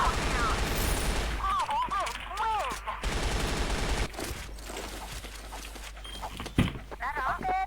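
Rapid bursts of gunfire from a ranked shooting video game crackle steadily across the scene, with a sharper shot standing out, under a player's excited speech and other game noise.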